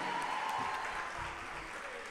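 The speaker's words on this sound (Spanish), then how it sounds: "vamos a darle un aplauso a la gente del medio" Applause from a club audience during a live concert at Jet Set Club, a steady broadband patter filling the room at moderate level, with music tones running faintly underneath.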